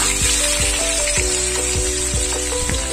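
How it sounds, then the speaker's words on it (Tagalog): Carrots and potatoes sizzle steadily in hot oil in a pan, a loud continuous frying hiss with rhythmic scraping strokes of a utensil stirring throughout. "Then pag mainit na, ilagay natin ang carrots at patatas."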